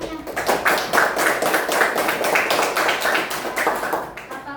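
Classroom children clapping for a classmate, a dense, steady patter of many small hands sustained throughout at moderate loudness, with faint voices mixed in.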